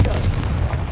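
A Confringo blasting spell exploding in Hogwarts Legacy, a single loud, close, low booming blast that rumbles throughout the short moment.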